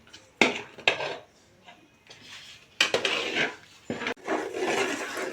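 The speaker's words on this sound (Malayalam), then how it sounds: "നല്ലപോലെ ഇളക്കിക്കൊണ്ടിരിക്കണം അടിയിലൊന്നും പിടിക്കാൻ വേണ്ടി പാടില്ല" Coconut flower lehyam mixture being stirred in a pan, irregular scraping and clanking of a utensil against the pan in uneven bursts with short pauses, close and fairly loud.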